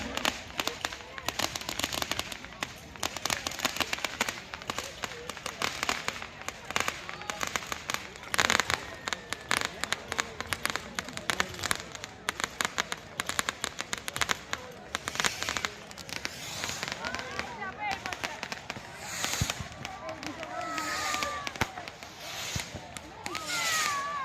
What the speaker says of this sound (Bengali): আতশবাজি শুরু হয়ে গেছে মাঠে।